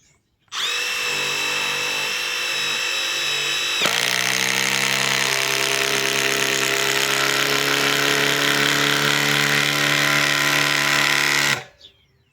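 Milwaukee M12 brushless subcompact impact driver 3450-20 driving a fastener into hardwood: a steady high whine that steps up to a harsher, harder-working tone partway through, running continuously for about eleven seconds before stopping, close and alone.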